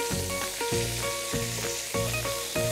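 Steady, loud sizzling from green beans frying in a hot pan, with repeated clinks and scrapes as they are tossed.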